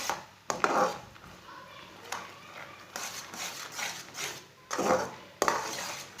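A spoon stirs peanuts into a chikki mixture in a pan, making close, uneven bursts of scraping and rattling against the metal.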